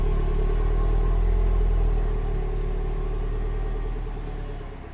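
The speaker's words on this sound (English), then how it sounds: "And the car is running fine." A Mini Cooper S R56 engine, one with high-pressure fuel system faults, idles steadily up close with a deep, even rumble and a low hum that fades slightly near the end, with no voices.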